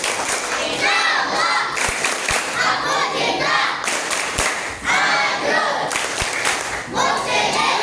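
A children's group performs a rhythmic clapping chant at a fast-breaking gathering, claps landing in sharp unison bursts among shouted young voices, loud and lively throughout.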